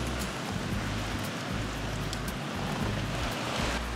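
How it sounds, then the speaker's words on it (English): Tropical rain in Grenada falls steadily, a dense even hiss of rain on surfaces with a faint low rumble underneath, constant and unbroken with no voices. "It has literally basically not stopped raining since we got here a few days ago."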